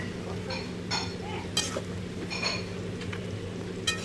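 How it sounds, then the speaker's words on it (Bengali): A spoon scrapes and clinks in a pot as rice and potatoes are turned over with fish head, a few soft stirring strokes over a steady low hum of the stove. "নেড়ে চাল আলু সব ওপর নিচ করে আমি শুকনো শুকনোই করব"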